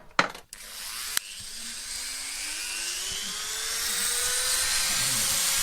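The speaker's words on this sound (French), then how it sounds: "Là, tu aplanis le rivet?" A power tool flattens a rivet on a handmade knife in a cutler's workshop. It spins up with a loud, piercing whine that climbs steadily in pitch and holds close and continuous, like a dentist's drill.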